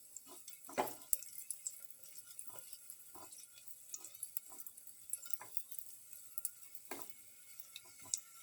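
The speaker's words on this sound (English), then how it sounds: "Saute it until the raisins pop up." Raisins sauté in a hot pan with a quiet sizzle, broken by irregular sharp pops and light spoon-stirring clicks, close and fairly faint with no talking.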